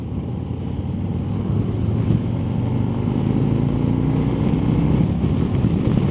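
A Harley-Davidson Street Glide or Road Glide with a 117 engine accelerates on a test ride, its engine rumble swelling after the first second and settling into a loud, continuous drone with rising tones and wind noise.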